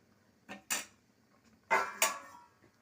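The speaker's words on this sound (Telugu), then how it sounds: "మూత పెట్టేశాను." A metal lid set onto a cooking pot of palak paneer, heard as two pairs of crisp metallic clinks and clatters, close and fairly quiet against a silent kitchen.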